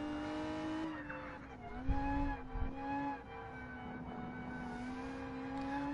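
A Lotus Evora with stiff suspension and hard sport tyres laps the Nürburgring in GT Sport, its engine droning steadily with shifting pitch, briefly swelling louder around mid-run before settling back into a continuous hum.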